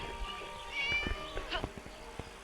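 A cat gives a drawn-out meow, nearby and moderately loud, amid scattered knocks and rustling with faint voices in the background.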